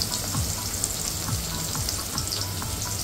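Curry leaves and onion crackle in hot oil for a dal tadka, making a dense, loud, continuous sizzle with faint popping spatters throughout, close up and free of speech.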